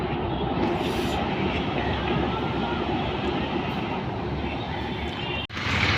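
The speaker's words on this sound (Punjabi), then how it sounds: "ਆ ਦੇਖੋ ਮਹਾ ਮੈਟਰੋ" A Maha Metro train in Pune rolls past close by with a steady, loud rumble of rail noise that holds throughout, broken only by a brief dip near the end.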